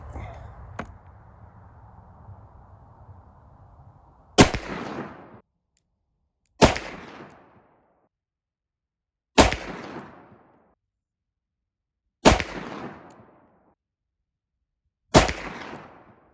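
Five loud, sharp gunshots from a .357 Magnum revolver firing a 16.9 g H110 load, spaced a couple of seconds apart, each with a short echoing decay, following a low steady hum.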